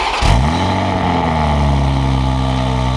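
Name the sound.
Toyota Supra engine first startup with new exhaust, valves closed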